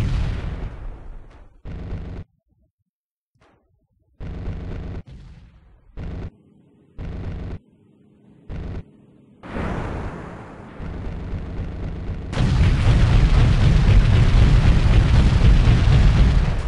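Heavy gunfire erupts in the helicopter combat game Comanche 3 Gold, with short separate bursts of cannon fire leading into a long, dense, roaring barrage near the end.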